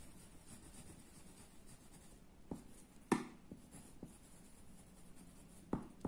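Pen or marker writing on a paper map during a Class 4 social studies lesson, a soft continuous scratchy stroking with a few sharper taps as strokes begin, close and quiet with no talking.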